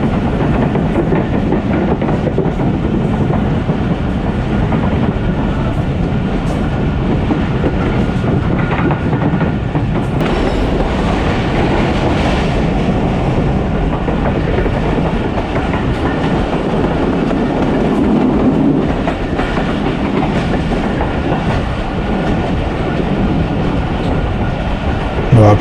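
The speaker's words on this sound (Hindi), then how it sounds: "ट्रेन आहिस्ता आहिस्ता एक्सेलरेट कर रही है और इसकी स्पीड बढ़ रही है" Pakistan Express train pulled by a GEU40 diesel locomotive gathers speed, heard from on board as a loud, continuous rumble with rhythmic clickety-clack of wheels over rail joints throughout.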